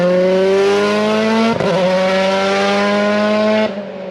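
Rally cars driving on the final day of the 2023 WRC Safari Rally in Kenya: a loud, steady engine drone with strong harmonic tones, a brief disturbance midway, then easing off near the end.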